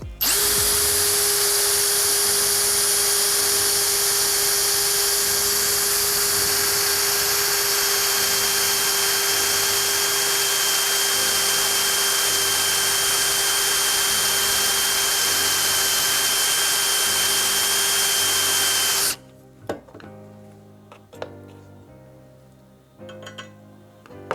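A cordless drill bores a 10 mm hole through 5 mm steel channel with a fresh bit: a loud, steady high whine for about nineteen seconds that cuts off abruptly, followed by a few clinks and handling knocks.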